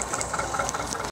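A tractor engine idles steadily at a ploughing event in Bukovice; the machine is 17 years old and used for forestry and potato work. The low, even chug runs briefly without voices.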